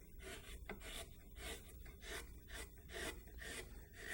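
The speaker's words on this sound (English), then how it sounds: "Now I'm hollowing the underside of the wing here, and I'm using a number 7 gouge" A number 7 gouge hollows the underside of a carved wooden osprey wing, giving close, steady scraping strokes in a repeated rhythm with no talking.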